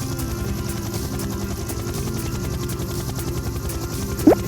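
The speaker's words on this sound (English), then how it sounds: "H is for helicopter." A helicopter's rotor thumps in a steady, rapid beat under a low engine drone, close and fairly loud, with a brief squeaky sound near the end.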